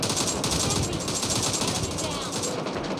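Continuous automatic fire from a DP-28 light machine gun in PUBG, a dense, loud rattle of rapid shots that fills the whole stretch without a break.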